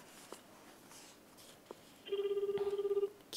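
A telephone rings while a call is being connected, sounding one clear, rapidly pulsing electronic tone for about a second after a few faint clicks and shuffles in a quiet room.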